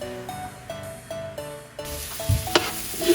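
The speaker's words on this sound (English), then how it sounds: "We're going to saute the onions until they soften for a couple of minutes" Onions sautéing in a pan for Filipino pancit canton, a bright hiss of frying that swells in halfway through after a stretch of light tonal backing, with a couple of sharp clinks near the end.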